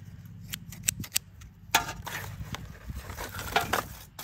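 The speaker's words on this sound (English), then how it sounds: "Ooh, scissors." Pinking shears and other scissors being handled from a box of sewing supplies, with scattered metallic clicks and snips, close and fairly quiet.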